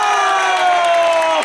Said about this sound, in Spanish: Un aplauso a los tramposillos.